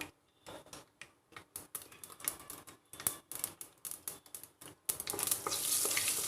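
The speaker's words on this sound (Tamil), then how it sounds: "கடுகு உளுத்தம்பருப்பு கொஞ்சம் பொரியணும்" Mustard seeds and urad dal pop and crackle in hot oil in a clay pot in rapid irregular bursts, then a denser, louder sizzle takes over near the end.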